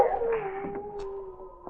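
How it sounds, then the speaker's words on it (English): A husky dog in a radio drama gives a long, drawn-out howling whine that tapers off, followed by a couple of faint short yelps. "At that moment, the tone of King's barking changed"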